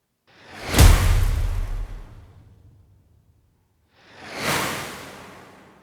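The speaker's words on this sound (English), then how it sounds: "we just have some whoosh bang sounds and some whooshes on their own as well" Two separate whoosh sound effects from a trailer music cue: a strong, deep swoosh that swells and slowly fades, then after a short silence a second, softer airy whoosh.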